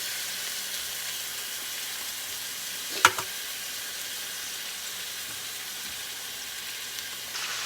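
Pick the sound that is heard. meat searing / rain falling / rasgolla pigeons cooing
meat searing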